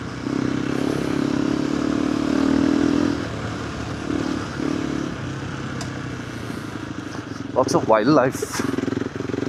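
A KTM 390 Adventure R fitted with a Norifumi Whoops exhaust rides along with a steady engine drone, then gives a brief sharper rev burst near the end, while a rider talks over it.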